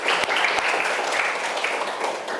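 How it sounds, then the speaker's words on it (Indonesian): A classroom audience gives a burst of steady, dense applause, many hands clapping together at close range from start to finish. "Kasih aplaus"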